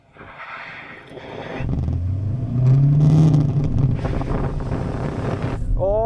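Several Skoda vRS cars launch in a quarter-mile drag race, engines roaring loudly and rising in pitch as they pull away, with strong wind buffeting the microphone throughout.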